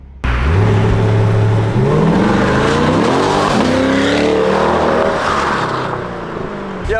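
A wrecked 2020 C8 Corvette revs hard and slides, its engine climbing through rising, shifting pitches over tire noise, loud and close throughout with no talk.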